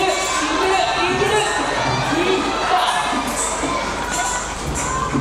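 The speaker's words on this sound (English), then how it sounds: "The crowd getting louder." A loud crowd cheers and shouts at an IFSC World Cup bouldering and lead semi-final in Morioka, Iwate, in 2022, a sustained roar with rising whoops and shrieks throughout.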